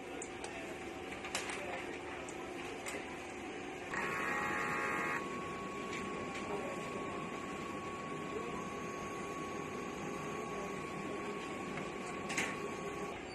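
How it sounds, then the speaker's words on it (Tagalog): A sublimation printer runs its head cleaning cycle, giving a steady mechanical whir with a thin sustained whine and a brief louder surge of motor noise partway through. "Ganito naman po ang tamang pag-head clean."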